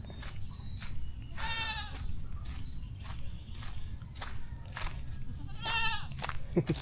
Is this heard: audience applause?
no